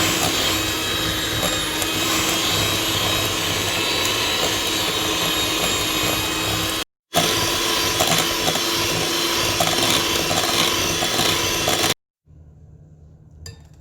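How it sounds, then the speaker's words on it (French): An electric hand mixer beats 200 g of butter with 100 g of sugar for cocoa biscuits, a loud steady whirring drone that cuts out briefly, resumes, then stops, leaving a quiet room. "battre 200 g de beurre avec 100 g de sucre au batteur électrique"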